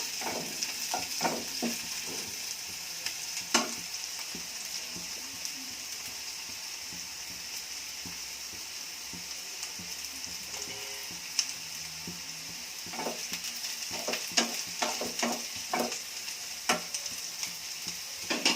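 Bitter gourd curry being stirred in a pan, a soft constant sizzle beneath scattered scraping and tapping of the spoon, with busier stirring near the start and end.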